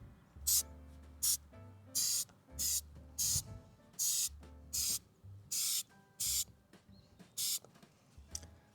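Walmart trim restoration product sprayed onto a car's plastic front lip from an aerosol can, a series of about ten short hissing bursts in steady rhythm, close and fairly loud.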